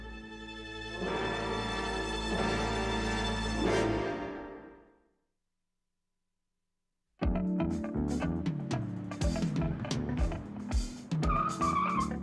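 A car drives fast with a loud sustained engine tone that rises, then cuts out for a few seconds of silence before tyres squeal and skid over busy road noise.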